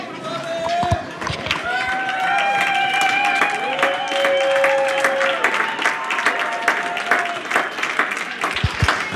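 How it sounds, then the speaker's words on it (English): Wrestling crowd giving an ovation, sustained applause and cheering from a large audience with whistles and shouts, a commentator talking over it. "Nice ovation from the crowd"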